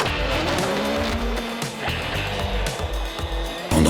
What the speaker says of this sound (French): la piste de Loéac a vibré au son des vieilles mécaniques